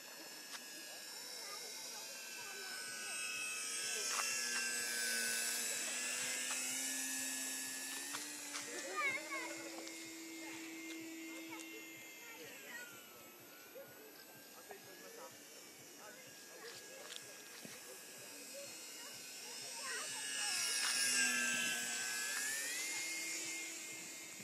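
The engine of a 1400 mm RC model P-51D Mustang plane whines in flight, rising and falling in pitch as it passes at a distance, fairly faint, with people talking nearby.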